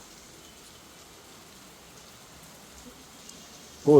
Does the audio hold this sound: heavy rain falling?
yes